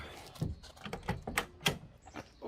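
A Mustang's car door, its underside rusty, opens with several close clunks and creaks spread over a couple of seconds.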